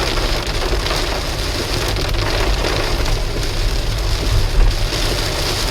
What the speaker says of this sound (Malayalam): സ്പീഡ് വൈപ്പർ ഇട്ടിട്ടും നമുക്കൊന്നും കാണാൻ പറ്റാത്ത രീതിക്കുള്ള മഴയാണ്.